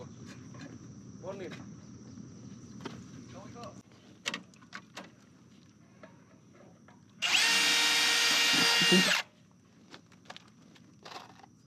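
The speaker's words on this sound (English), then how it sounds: "All we're using is an 1/8 inch bit, just regular self tappers, 5/16." Power drill with a 1/8 inch bit driving 5/16 self-tapping screws into a Z Poolform for a Coverstar lid riser, one loud burst of about two seconds, close, amid outdoor insect chirping and light handling noises.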